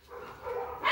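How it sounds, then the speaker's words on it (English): The neighbors' dogs bark faintly in the distance, with a short muffled burst of yelps and barks that stays low in level. "Apologize for the dogs, those are the neighbors."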